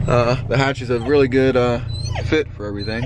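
A dog whimpers and cries from the rear hatch of an MK7 Volkswagen Golf R, its high, wavering whines mixed in under steady close-up talking from a person in the car, with a low engine and road hum beneath.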